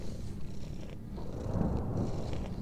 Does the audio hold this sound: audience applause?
no